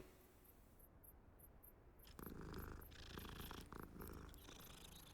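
A cat purrs in the Hogwarts Legacy video game, a soft, steady rumble that runs under game music and ambience, which swell louder partway through.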